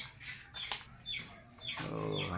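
Large fighting roosters and chickens nearby, giving several short, faint clucks and squawks in quick succession against quiet ambient background.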